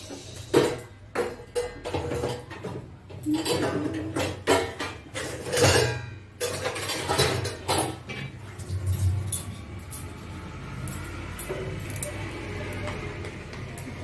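A spoon works through thick homemade tomato sauce in a pan, giving close, wet squelching scrapes in uneven strokes, busier at first and then settling into a softer, steady stir.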